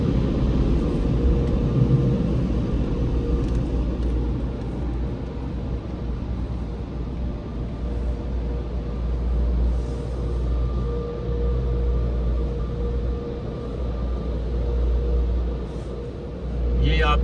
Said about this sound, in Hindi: हवा आ रही है जो पानी को ऊपर से उड़ा देगी, ड्राई कर देगी।